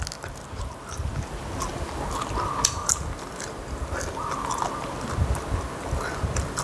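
Squid being bitten and chewed during a Thai meal of spicy som tam with shrimp and grilled fish: steady close-up mastication with soft crunchy bites, no talking.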